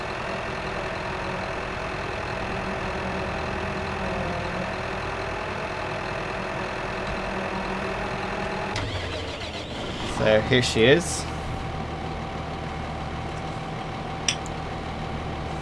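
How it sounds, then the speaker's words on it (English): A New Holland T6160 tractor, 160 horsepower, idles steadily in Farming Simulator 15, a constant engine drone throughout with someone talking over it and a few brief clanks near the end. "The tractor is the New Holland T6160, 160 horsepower."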